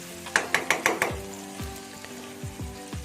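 Marinated chicken dropped into hot oil and stirred in a pan over low-to-medium heat, a run of quick scraping strokes followed by softer intermittent stirs over a low sizzle.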